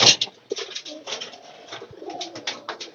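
Pigeons at a rural pigeon market coo close by in short, repeated bursts, soft throaty calls overlapping one another against a quiet background.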